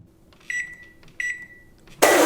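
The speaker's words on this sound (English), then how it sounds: "Microwave. What are we heating up though?" Two short electronic beeps from a microwave oven, evenly spaced and moderately loud, followed by a sudden loud burst of broadband noise.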